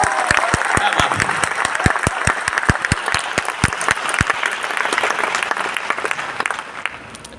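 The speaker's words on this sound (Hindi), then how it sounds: "एक जबरदस्त तालियां होनी चाहिए भाई" Live audience at a motivational talk in Bodhgaya breaks into loud, sustained clapping, with sharp individual claps standing out near the front over a dense crowd wash that fades slightly toward the end.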